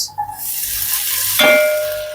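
Corn kernels and onion leaf stalks sizzle loudly in hot oil in a pot, a steady frying hiss, with a brief metallic clink partway through.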